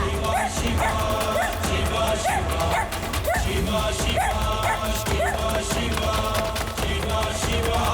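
A dog barks and yips repeatedly in short, regular bursts over a loud, busy background, fairly close, with some whimpering tones among the barks.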